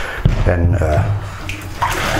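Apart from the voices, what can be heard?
pouring away leftover hot water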